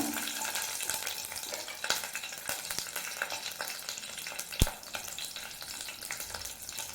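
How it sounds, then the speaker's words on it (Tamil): Green chilies, slit and added whole, frying in hot oil where mustard and fenugreek seeds have been crackling, a steady sizzle with occasional stirring clinks and one sharp pop, no talking. "அந்த எண்ணெயிலே அந்த பச்சை மிளகாவை வதக்கி எடுத்துக்கோங்க"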